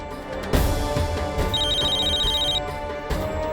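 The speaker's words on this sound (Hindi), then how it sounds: "फोन करूं फिर से एक बार?" A telephone rings during a call in a Hindi TV drama scene, giving a steady electronic ringing tone under a music bed with no speech.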